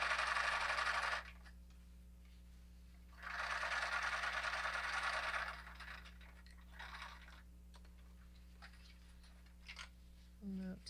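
Sewing machine back stitching a seam on a cloth diaper, two loud whirring bursts of stitching separated by quieter handling clicks and rattles, with a faint hum underneath.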